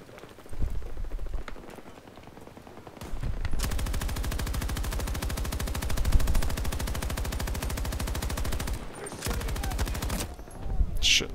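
Sustained automatic fire from a light machine gun in the shooter game Battlefield 2042, a long rapid rattling burst of evenly spaced shots lasting several seconds, preceded and followed by scattered battle noise and shorter shots.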